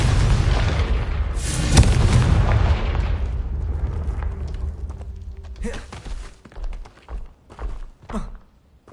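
A Confringo fire spell explodes in Hogwarts Legacy with a loud, booming blast that rolls off into a fading rumble, then several softer thuds and impacts follow in the quieter tail.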